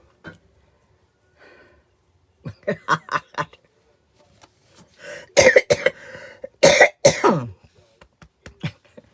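A faint throat sound, then a quick burst of several coughs, followed by louder, harsher hacking coughs in short clusters, close and with no speech.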